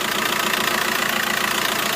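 A van engine at idle after 267,417 miles, running steadily with no warning lights, gives a close, even, continuous mechanical rumble and light knocking hum, with no talking.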